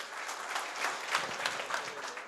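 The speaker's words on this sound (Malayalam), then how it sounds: "അവർക്ക് വേണ്ടിയും നല്ലൊരു കൈയടി എല്ലാവരും ചേർന്ന്" An audience at a 50th birthday celebration in Qatar claps together in a brief burst of steady, close applause from many hands. No one talks over it.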